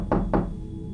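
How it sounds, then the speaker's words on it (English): Two forceful knocks strike a window in quick succession, sharp and close, followed by quiet room tone. "another forceful knock came upon the window."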